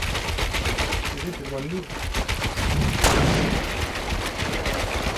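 Rapid gunfire in the video game Fortnite, bursts of shots rattling through a dense battle mix, heard under excited players talking over voice chat.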